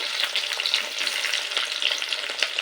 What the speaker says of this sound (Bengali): আদা রসুন আর কাঁচা লঙ্কা একটু ভেজে নেওয়ার পর দিয়ে দেব ক্যাপসিকামের টুকরোগুলো